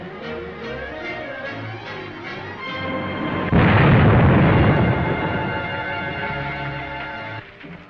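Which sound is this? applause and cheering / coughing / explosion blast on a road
explosion blast on a road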